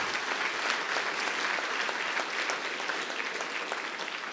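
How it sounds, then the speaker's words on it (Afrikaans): Steady applause from an audience seated at a school blazer ceremony, a dense continuous patter of many hands clapping, fairly close and even throughout with no talking. "Kom ons klap vir hulle allemaal lekker hande."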